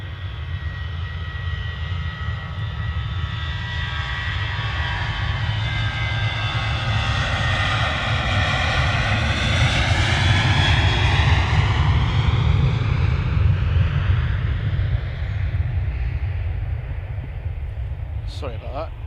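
TAP Express airliner arriving at Manchester Airport, a loud close engine roar with a rising and falling whine as it passes, steady for nearly twenty seconds, a voice briefly talking over it.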